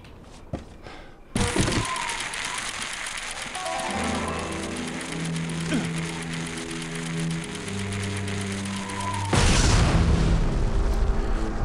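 An explosive charge detonating in the video game Indiana Jones and the Emperor's Tomb, a sharp loud blast followed by a long rumbling roar with droning tones, then another burst of noise near the end.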